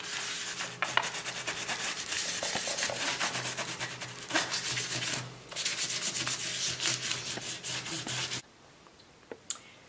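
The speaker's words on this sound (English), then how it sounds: "it's buffing the wax, so it's going to make it shiny" A cloth buffs wax across a picture frame in rapid, rhythmic rubbing strokes, close and continuous with brief pauses, then stops, leaving a few faint knocks.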